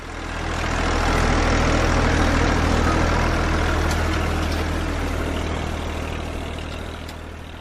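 Tractor engine running steadily, a loud continuous low rumble that stays close and even throughout with no talk over it.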